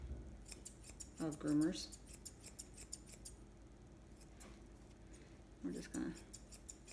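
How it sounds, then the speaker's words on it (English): Thinning shears snip the hair on a cocker spaniel's face and ears in short bursts of quick, close metallic cuts, while a person talks over them. "Now, these are thinning shears."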